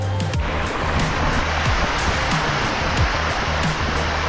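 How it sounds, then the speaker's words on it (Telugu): A small hidden waterfall near Visakhapatnam roars with a loud, continuous splashing rush close by, with no voices over it. "ఇది చిన్న వాటర్ ఫాల్."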